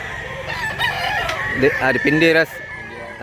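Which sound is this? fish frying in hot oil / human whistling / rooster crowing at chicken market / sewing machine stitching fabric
rooster crowing at chicken market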